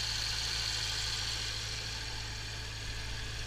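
A BMW X5M engine idles steadily just after a cold start, a smooth, constant low rumble with a faint high whine running over it and no knocks or ticks.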